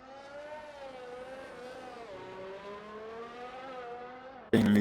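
An F1 race car engine in a racing video game on the Monaco track gives a continuous high, buzzing whine that rises and dips slightly. It ends with a sudden loud burst of noise.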